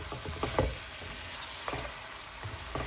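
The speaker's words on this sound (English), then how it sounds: "so we'll let the onions cook off for a bit" Onions cook in a chicken and soy sauce gravy, a quiet, continuous sizzle and bubbling broken by a few soft clinks and stirring scrapes from a utensil in the pan.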